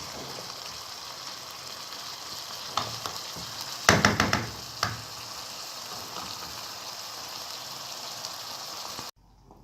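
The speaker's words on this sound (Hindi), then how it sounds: "बस अब हम इसको तेज़ आंच पर 3-4 मिनट इसको अच्छा सा भूनेंगे" Minced meat keema with whole spices sizzles and fries steadily on high heat in a pan, with a few sharp clattering stirs midway standing out over the continuous hiss before it cuts off.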